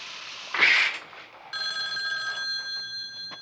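A telephone rings in a scene from the 1981 slasher film Friday the 13th Part II, with steady electronic ringing tones that follow a brief louder burst of noise.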